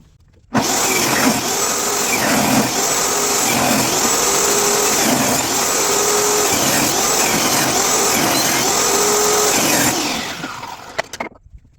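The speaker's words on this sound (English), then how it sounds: "I'm gonna rip the pieces of 2x6 down to its rectangular or square sizes" A table saw rips 2x6 wooden boards into blocks for a planter box: a loud, continuous motor whine with repeated dips and rises in tone as each cut is fed through, spinning down at the end.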